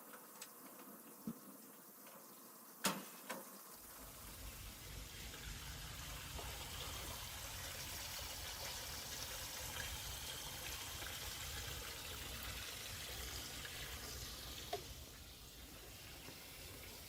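Water gushes steadily into a CNC plasma water table being filled with almost 300 gallons, a continuous broad rush that starts after a few quiet seconds with light knocks and runs on unbroken.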